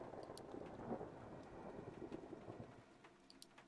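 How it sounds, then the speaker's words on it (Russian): Thunder rolling through heavy rain in the horror video game Observation Duty, a loud continuous rumble with steady rain hiss underneath, no voices. "гром какой вонючий"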